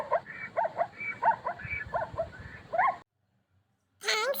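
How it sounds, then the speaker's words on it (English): A zebra gives a run of sharp, yelping bark-like calls for about three seconds. After a short silence, one more call follows. "The zebra sound is."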